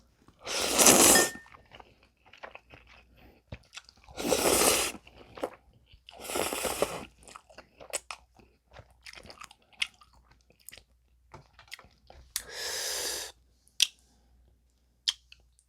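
Someone eats strawberry-flavoured Paldo bibim-myeon cold noodles in a few separate bouts of close, crisp chewing and slurping, with quiet pauses in between.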